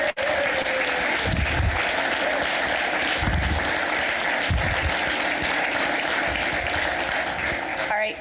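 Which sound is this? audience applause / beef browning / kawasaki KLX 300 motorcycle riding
audience applause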